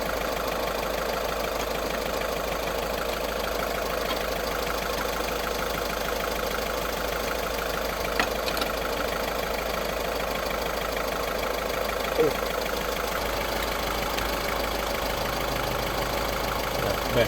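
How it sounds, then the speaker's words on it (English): A 2012 Seat Altea engine idles steadily, a continuous, even mechanical hum with a faint knocking, plus a couple of brief clicks and no talking. "the engine is running"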